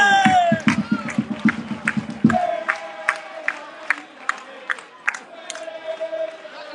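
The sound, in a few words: football fans cheering a goal by Stassi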